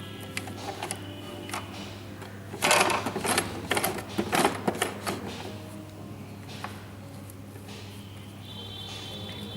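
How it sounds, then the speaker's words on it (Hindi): Sewing machine stitching a seam on a summer cotton poshak for a Bal Gopal idol, with a steady motor hum and a burst of louder rapid stitching in the middle of the clip. "तो अब मैं इसको मशीन से पक्का करूँगी"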